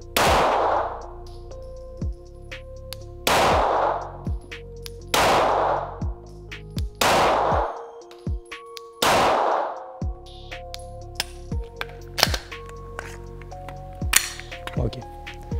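A pistol is fired five times at an indoor shooting range, each shot a loud, close crack with a ringing tail, spaced a couple of seconds apart, with faint metallic clinks and shuffling between shots.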